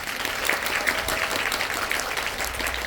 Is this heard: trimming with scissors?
no